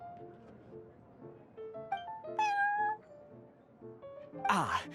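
A cat meows in a Genshin Impact cutscene, several short, clear, tonal mews that rise and fall, ending in a louder, drawn-out cry, against a quiet background.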